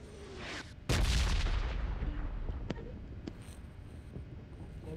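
Gunfire in a video game as the player shoots at zombies in a radioactive zone, with a sudden loud burst followed by a sustained roar of shots and several sharp cracks fading over a few seconds.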